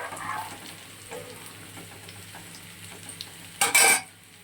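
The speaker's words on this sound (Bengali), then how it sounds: "ফোড়নে দিয়েছি হচ্ছে শুকনো লঙ্কা, তারপর লবঙ্গ 2-4টে, আর গোটা সাদা জিরে ফোড়নে দিয়েছি।" Dried red chillies, a few cloves and whole white cumin crackle faintly in hot tempering oil, followed near the end by a brief louder sizzle and clatter of a stirring utensil against the pan; no talk.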